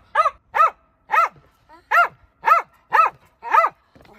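A dog barks in a backyard, seven sharp loud barks in a steady rhythm, each close and clear with short pauses between, with no other sounds.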